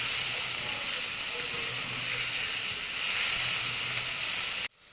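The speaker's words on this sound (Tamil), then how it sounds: "ஒரு நிமிஷம் நல்லா த தக்காளி வதங்கட்டேன்னு சொல்லிவிட்டு கத்திரிக்காயும் போட்டு ஒரு ரெண்டு வதக்கு வதக்கலாங்க" Tomatoes sauté in a hot pan with a continuous close sizzle and hiss that swells briefly near the end, then cuts off.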